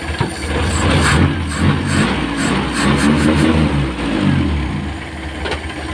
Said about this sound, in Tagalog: Mandar na guys, meron na siyang idle.